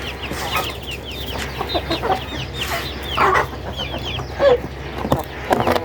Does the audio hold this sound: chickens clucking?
yes